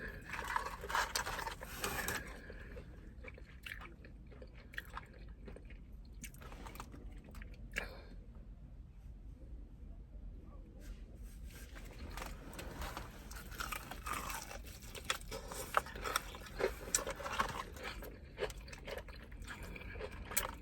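Crunchy fried pickles and pickle-brined fried chicken being bitten and chewed up close, with repeated crisp crunches and wet chewing at a steady, uneven pace over a soft background.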